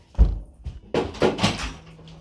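A front door opening for a visitor at home, a couple of dull thunks and a short rattle close by, with no talking.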